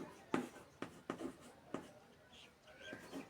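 Chalk or marker strokes on a classroom board during a chemistry lesson, a few sharp scratchy bursts in uneven rhythm, close and fairly clear, with quiet room tone between.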